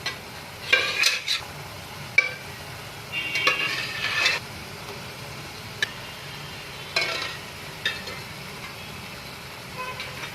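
Pork fries in hot oil for biryani and gets stirred in bursts of scraping and sizzling, several loud strokes with short pauses between them, over a soft steady sizzle.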